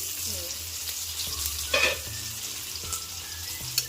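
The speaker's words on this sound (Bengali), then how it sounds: "সবগুলোই মোটামুটি খুব ভালোভাবে ভাজা হয়ে গেছে।" Spiny gourd (kakrol) pieces frying in oil in a pan, a steady soft sizzle with a few stirring scrapes and clinks, fairly quiet and close.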